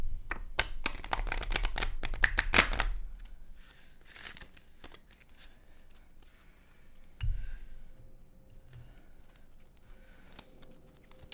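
Tarot cards are shuffled up close in a quick burst of rapid riffling flicks for about three seconds, then a few softer, scattered card taps and slides follow in a quiet room.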